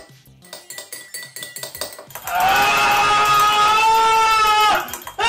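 A spoon stirs a non-alcoholic cocktail in a glass, first as a quick run of rhythmic clinks, then as a sustained bright ringing tone that holds for a couple of seconds before cutting off.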